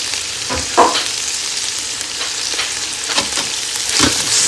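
Rice stir-fried in a cooking pot for Chinese fried rice, a steady close sizzle with scattered scraping stir strokes.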